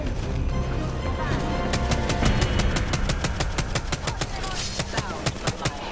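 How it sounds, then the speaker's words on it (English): Automatic gunfire in Apex Legends, a fast, even string of sharp shots that starts after a second or so of background battle noise and runs steadily to the end, with voices faint underneath. "Opening fire."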